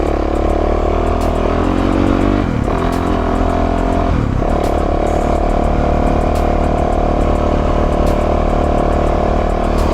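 A Yamaha YZ450F dirt bike ridden along an ATV trail, its engine droning loud and close with a steady roar, two brief dips where the throttle drops before it pulls back up again.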